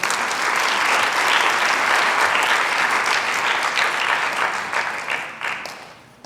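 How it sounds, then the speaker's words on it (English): Full-room applause after a Bharatanatyam arangetram, loud sustained clapping from the audience that holds for several seconds before tapering off into scattered claps. "I think she needed a round of applause by everyone."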